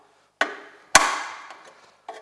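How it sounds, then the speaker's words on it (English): An old claw hammer strikes three times, sharp hard knocks with short ringing decay, the middle blow loudest, in an otherwise quiet space. "Not to mention that it's a claw hammer."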